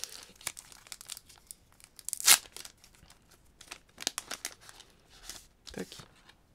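Pokémon card packaging from a 25th anniversary Celebrations box being torn open from the bottom, giving crinkly plastic-foil rustles with one sharper tearing burst midway, close and fairly quiet.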